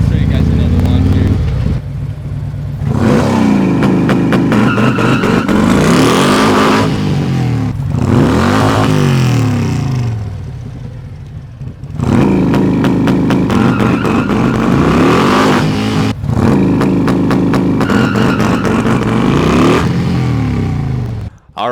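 A car fitted with a Redline performance kit launches hard, its engine screaming and bouncing off the rev limiter in rapid stuttering bursts, with two long loud revving runs separated by brief drops.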